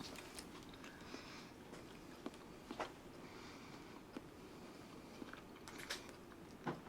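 Someone eating a veggie street taco topped with tomatoes, with close, moist chewing and several sharp crunchy bites scattered over a quiet background.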